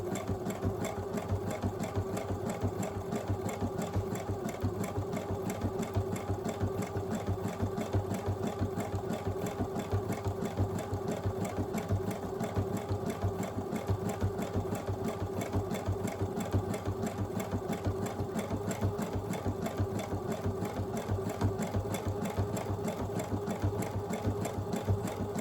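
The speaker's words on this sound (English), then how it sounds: "And now it's zigzagging." A sewing machine zigzag-stitching a buttonhole runs in one steady, continuous mechanical chatter at an even fast rhythm, close and alone with no talk.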